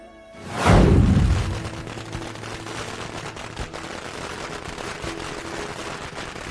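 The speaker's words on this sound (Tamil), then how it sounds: "வேட்டு சவுண்டு காதை கிழிக்கா?" Firecrackers going off at a celebration: a sudden booming burst swells and fades into a dense, crackling rattle of small pops that continues steadily in the background.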